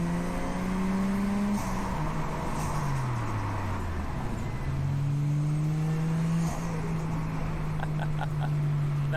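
A drift car's engine revs steadily through a rising and falling roar, loud and continuous, with the pitch dipping then climbing again; a faint rattle joins near the end and no one speaks.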